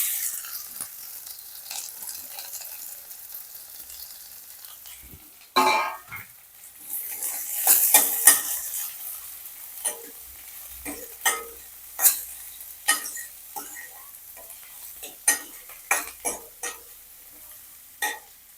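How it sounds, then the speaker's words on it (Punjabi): Chopped onions hit hot oil with cumin and sizzle, a sudden burst of frying followed by scattered scraping and clattering strokes as they are stirred in the pan, close by and with no voices. "ਜਿਹੜੇ ਆਪਾਂ ਪਿਆਜ਼ ਕੱਟ ਕੇ ਰੱਖੇ ਨੇ ਇਹਨਾਂ ਨੂੰ ਪਾ ਦੇਣਾ"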